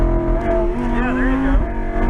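A Lamborghini accelerates on a race track, its engine rising in pitch as the revs climb, loud and close, while an instructor talks over it.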